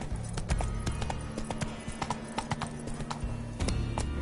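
A horse gallops in The Witcher III, with rapid rhythmic hoofbeats thudding steadily and close over a low droning game ambience, briefly easing before picking up again.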